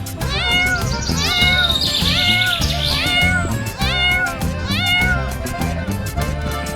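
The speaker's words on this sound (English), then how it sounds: "C for cat." A cartoon cat meows in a children's alphabet song, the repeated meows riding over a bouncy music backing with a sung voice.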